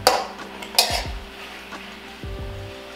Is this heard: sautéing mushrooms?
yes